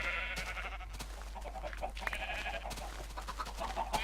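Sheep in the Minecraft video game bleat while being sheared, several nasal wavering calls close by over a steady low hum, with clicks scattered between.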